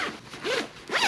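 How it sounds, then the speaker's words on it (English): A zip running around the body of a textile motorcycle jacket's thermal liner, two or three quick, close rasping pulls with short pauses between them. "To take the thermal liner out, there's a zip that runs all the way around the body"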